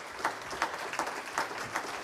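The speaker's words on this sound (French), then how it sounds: "je vous propose qu'on les remercie en les applaudissant" A small workshop audience applauding the panelists of a financing session, moderate scattered clapping at a distance, fairly quiet and brief.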